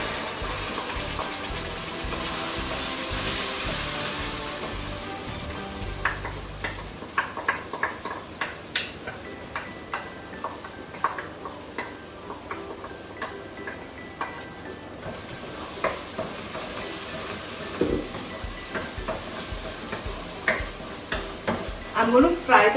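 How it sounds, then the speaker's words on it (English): Masala paste for chole tikka masala fries in a pan with a busy sizzle and frequent scraping, clicking stirs that grow more insistent toward the end, a voice speaking at times over it. "I'm going to fry the paste till it cooks"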